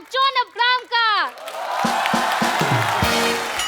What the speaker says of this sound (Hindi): जोरदार तालियों से स्वागत कीजिए Varun Dhawan and John Abraham का.